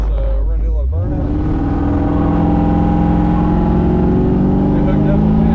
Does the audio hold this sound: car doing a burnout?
yes